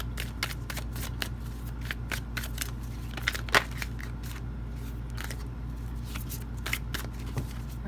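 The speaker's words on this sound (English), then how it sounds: "Alright, so last shuffle." Tarot cards being shuffled repeatedly, a string of crisp riffling flicks and soft slaps in an irregular rhythm, close and fairly quiet.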